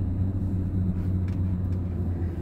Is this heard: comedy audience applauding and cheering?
no